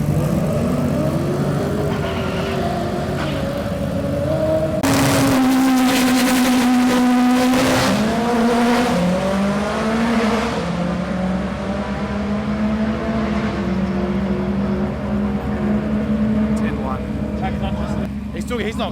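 A Honda Civic EG race car engine drones loudly throughout a record run, holding a steady pitch, then jumping and shifting through changes in revs, heard under continuous talk.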